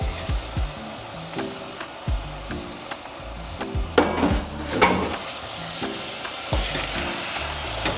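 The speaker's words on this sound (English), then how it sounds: "So our onion has been cooking, so I'm going to add our minced meat." Minced meat and onion frying in oil, a steady crackling sizzle broken by repeated scraping stirs and clinks of a utensil against the pan, close and moderately loud.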